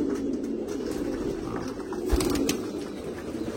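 Pigeons coo in a steady, overlapping low murmur that fills the whole stretch, close by and fairly loud, with a brief thump near the middle and no talking.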